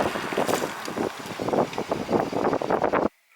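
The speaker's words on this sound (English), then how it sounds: "it is still quite windy out there" Gusting wind buffets the microphone outdoors beside a Kia Stinger GTS, loud rushing bursts rising and falling before cutting off abruptly near the end.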